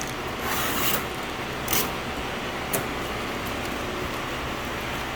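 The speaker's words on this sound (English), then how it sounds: "Let's get the tape off." Masking tape peeled off the hood of a Porsche Panamera, a few soft ripping and rubbing sounds up close, with three sharper brief tears over a quiet background.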